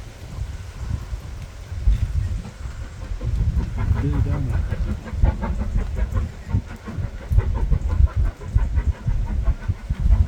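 A train rumbles past over the Glenfinnan Viaduct, its low mechanical roar steady and building, with a rhythmic clatter of wheels over rail joints emerging midway, fairly loud throughout.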